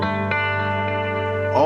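A clean electric guitar tone through a Wells amp model in ToneX, a sustained chord ringing loud and steady before a brief pick scrape at the end.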